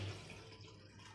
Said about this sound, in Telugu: దీంట్లో కొన్ని వాటర్ యాడ్ చేసుకుందాం.